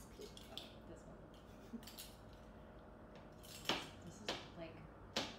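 Knife mincing jalapeños on a cutting board in a home kitchen, quiet scattered chops building to a few sharper cuts near the end, with soft background voices.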